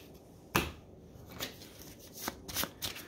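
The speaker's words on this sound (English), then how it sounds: "It should be shuffled." Someone shuffles a deck of game cards for the Robotech-Macross Dog Fight miniatures game. Several crisp riffling bursts and card snaps come close up in quick succession, with no speech.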